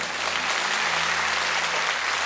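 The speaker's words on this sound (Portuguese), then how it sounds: "Porque tem mãe, pode aplaudir." A church congregation claps in a continuous wash of dense applause, close and even in loudness, with a low steady hum running underneath.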